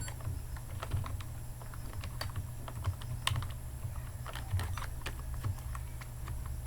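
Code typed on a computer keyboard while setting up a PHP MVC framework: quick, irregular key clicks tapping steadily at close range over a faint hum, with no talking.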